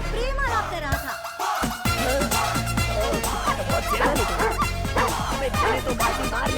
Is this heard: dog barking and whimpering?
yes